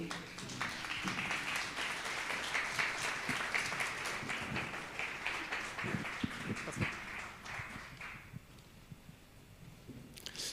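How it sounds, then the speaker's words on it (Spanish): At a pastoral leadership conference in La Paz, an audience applauds a guest pastor's entrance with sustained, fairly distant clapping for about eight seconds before it dies away into quiet. "Vamos a invitar al pastor Cho Jung con fuerte aplauso, por favor."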